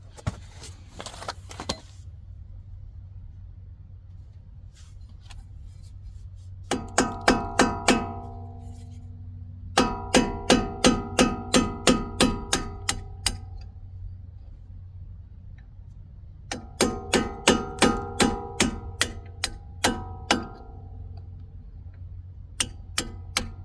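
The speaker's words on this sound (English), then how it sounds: "We're just gonna punch these pins out." Metal punch struck repeatedly with a hammer to drive out brake caliper pins on a 5th generation Camaro, bursts of sharp rhythmic clanks in quick series separated by quiet pauses, close and loud.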